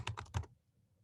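Quick keystrokes on a computer keyboard while setting text in Photoshop, three or four close clicks in a short burst, then quiet.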